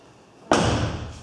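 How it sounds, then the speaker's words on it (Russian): A car door on a Daewoo Matiz shuts with one solid, close thud after a quiet moment, followed by a brief fading rattle. "Дверки открываются, закрываются."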